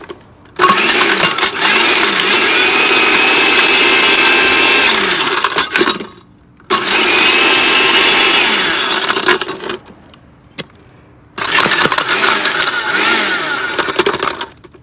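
Kitchen blender grinds an iPhone 4s in three loud bursts, the motor roaring with harsh rattling and cracking of broken glass and metal, separated by short pauses.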